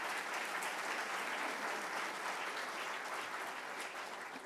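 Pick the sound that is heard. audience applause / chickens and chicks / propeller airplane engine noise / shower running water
audience applause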